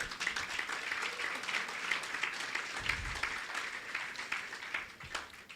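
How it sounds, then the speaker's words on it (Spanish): Church audience applauding steadily throughout, a dense wash of clapping from a crowd with a brief low thump near the middle, no talk over it. "¿Alguien aplauda al Señor?"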